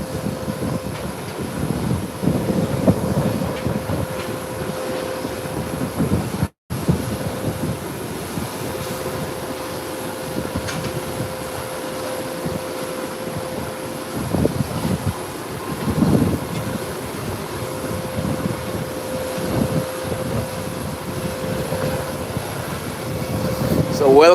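A jet airliner turning during airport plane spotting, a steady drone of engine noise held through the whole stretch with a constant whine, fairly loud and continuous, under occasional background noise.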